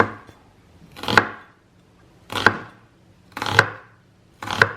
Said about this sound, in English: Cutting onions super, super finely, very quickly.